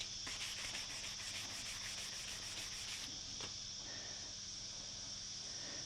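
Steady back-and-forth sanding of a plastic part's edge on a graphics sticker kit install, rhythmic strokes close up for about three seconds, then a softer continuous rub with no talking.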